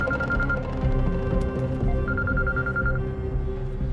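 An unanswered phone rings in two short bursts of repeated electronic tone, heard under a dense bed of background music and noise.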